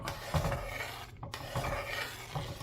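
A spoon scrapes and stirs jackfruit payasam in a pot with a rough, rhythmic rubbing sound, close and steady with a brief pause.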